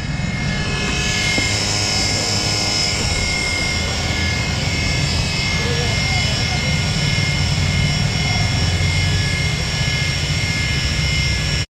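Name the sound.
Yamaha motorcycle radiator noise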